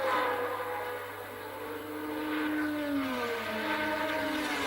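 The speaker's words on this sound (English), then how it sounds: "And you can hear those engines, each of them producing well over 500 horsepower, and Villeneuve is coming up to try and take" 1981 Formula 1 car engines racing at Silverstone, each rated over 500 horsepower, give off a distant, fairly faint high whine whose pitch glides up and down as the cars pass, with no speech.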